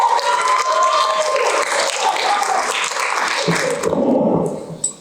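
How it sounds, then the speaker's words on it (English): Audience applause at a high school poetry slam, a busy mix of clapping and crowd noise that holds steady before thinning out near the end. "Next up to stage, please, warm round of applause for Michael Wilson."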